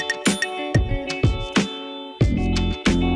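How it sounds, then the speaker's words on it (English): An old-school blender crushing ice with coffee and caramel, loud and close, with bursts of grinding that start and stop in pulses before running into a steadier churn. "I want to get that started in my blender first."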